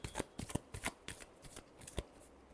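Tarot cards are shuffled up close, a quick run of crisp riffling bursts in an irregular rhythm, fairly quiet, with no talking.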